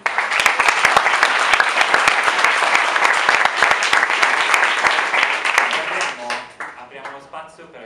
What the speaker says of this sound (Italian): Io faccio un applauso a Vincenzo